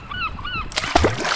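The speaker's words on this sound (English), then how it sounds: "The gulls are sure having a feed." Gulls feeding over the sea from a boat call in a few repeated squawking cries, followed by a burst of splashing water and flapping, fairly close.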